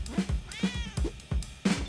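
A cat meows repeatedly in Spelunky 2, several short, close, fairly loud calls with a rising-falling tone, spaced unevenly with brief gaps between them.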